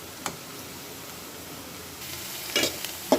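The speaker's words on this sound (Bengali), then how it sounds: "এখানে দিয়েছি শুকনো মরিচ, দিয়েছি তেলের মধ্যে, আর দিয়েছি রসুন, আর দিয়েছি পেঁয়াজ" Dried chillies, garlic and onion sizzle in hot oil for a tempering over lentils, a steady soft frying hiss close by with a few brief stirring clinks and scrapes toward the end.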